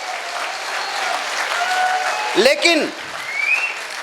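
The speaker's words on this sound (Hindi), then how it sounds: "तो एक बार जोरदार तालियां होनी चाहिए।" Loud audience applause fills the whole stretch, steady dense clapping with a brief voice and a whistle-like tone cutting through midway, at a Hindi-language motivational stage event.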